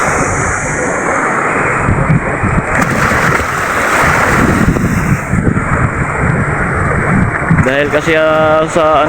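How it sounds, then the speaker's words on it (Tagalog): Strong amihan monsoon wind buffets a moored fishing boat while sea waves surge around it, loud roaring gusts and wind noise hitting the microphone throughout, with a voice speaking near the end. "Dahil kasi sa malakas na hangin amihan at saka alon."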